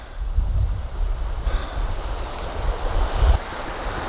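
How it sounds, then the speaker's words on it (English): A rushing white-water stream near Three Shires Head roars steadily and loud, with low wind buffeting the microphone and no voices throughout. "dancing off the white water, and we've got another rush of water a bit further up as well"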